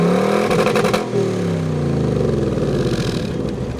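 A V8 sports car engine in quiet exhaust mode rumbles steadily with a deep, burbling exhaust note and a brief rev early on, fairly close and continuous.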